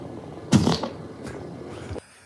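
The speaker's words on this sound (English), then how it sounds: "So when I had to fart again, I'm like, I wonder where. So I recorded it." A recorded fart played back from a phone: one brief, loud rasping burst with a fluttery tail, followed by quieter trailing noise before the playback cuts off.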